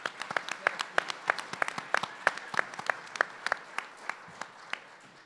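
Crowd at a climate change panel discussion applauds in a room, a dense run of sharp hand claps that stays lively before gradually thinning out and fading near the end.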